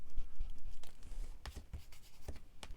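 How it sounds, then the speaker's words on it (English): Pencil marks being rubbed off a magnetic writing board, with short scratchy rubbing strokes repeating close by in an irregular rhythm, alone without talk. "Or at least attempt to rub the pencil marks off."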